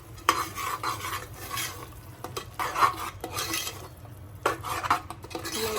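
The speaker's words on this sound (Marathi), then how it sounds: "एकदम मिक्स करून चांगला भाजून घ्यायचा आहे आता आपल्याला मटण." Mutton being stirred and roasted in a pan with homemade Maharashtrian ghati red masala, a steady scraping and clinking of a spoon against the pot over a low sizzle, close and continuous with no talk.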